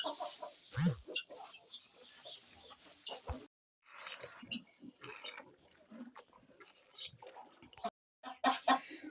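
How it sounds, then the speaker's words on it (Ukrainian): Chickens, roosters and guinea fowl chatter and rattle clucks in scattered bursts around a small farm barn, some near and some farther off, with harsh squawks and brief gaps of quiet. "Кури півні не спішать цесарки покидати хлів"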